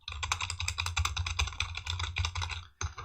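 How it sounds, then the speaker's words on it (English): Rapid mechanical keyboard typing, a steady dense clatter of keystrokes close up, with a brief pause near the end before a few more clicks. "My keyboard sounds nice."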